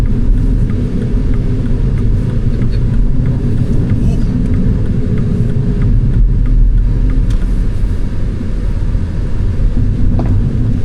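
A new MINI Cooper's engine roars loudly and continuously, a dense low rumble that swells as the car speeds up, heard from close inside.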